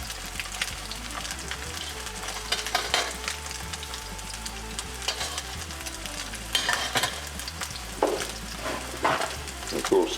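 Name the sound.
shark fish frying in a pan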